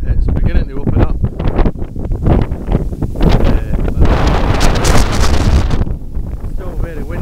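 Strong wind on Makulot mountain, loud and gusty, hammering the microphone in heavy rumbling blasts that barely let up, with a voice speaking faintly underneath at times.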